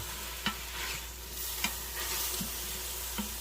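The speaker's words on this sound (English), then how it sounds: "What that sizzling is that's the fluid coming off of the mushrooms" Butter and mushrooms sizzle steadily in a hot pan, a constant hissing crackle as fluid cooks off the mushrooms, broken by a few soft clinks of stirring.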